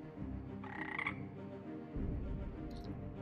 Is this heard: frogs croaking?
yes